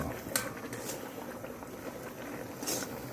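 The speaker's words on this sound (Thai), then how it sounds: "ก็ต้มไปสักพักลองเช็คเส้นดูนะครับ" Spaghetti boils in a pot of water, a steady soft bubbling and churning that runs throughout, with a couple of brighter splashy bursts near the start and end.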